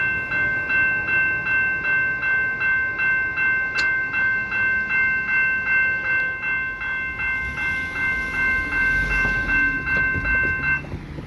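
CPKC rail maintenance-of-way equipment rolls steadily past at close range at Wilderton Street crossing, wheels clacking in a regular rhythm over the joints, with a droning tonal whine throughout.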